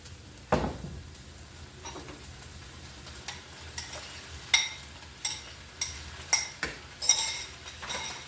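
Eggs frying in a pan alongside rice, with a steady low sizzle and a string of metallic utensil clinks and scrapes against the pan, close and moderately loud, with no talking.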